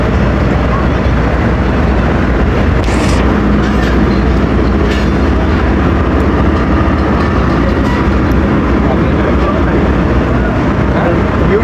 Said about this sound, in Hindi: तो डिपार्चर हो गया है जी 48 डाउन रहमान बाबा एक्सप्रेस का रावलपिंडी रेलवे स्टेशन से।